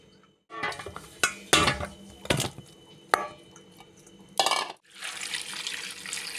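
Water lily stems being washed and squeezed in a bowl of water for a prawn dish: sloshing, splashing bursts with clinks of a vessel, ending in a steady running-water rush, close and alone.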